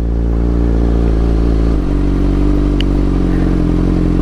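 A motorcycle engine runs steadily close by with a loud, droning low-pitched tone while the rider shifts gears; there is a brief dip in pitch partway through as the gear changes, and the engine holds fairly level throughout.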